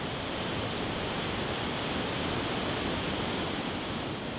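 A dense, steady roar of rushing water from the Hukou Waterfall on the Yellow River fills the air without pause, loud and unbroken, close by.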